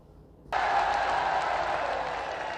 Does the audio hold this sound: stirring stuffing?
no